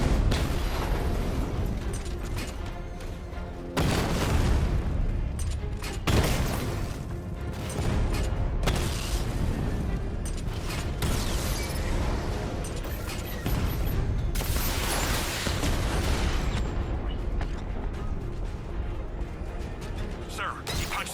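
Batman Arkham Knight combat against armored tank units, a dense barrage of heavy explosions, mechanical clanks and bursts of fire, loud and nearly continuous with short breaks, under occasional spoken voices.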